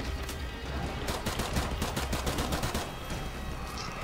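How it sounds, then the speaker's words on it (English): Beretta pistol gunfire in the video game Modern Warfare Remastered, a dense, loud volley of rapid shots over continuous battle noise, no talking. "And I'll just lay fire with my Beretta."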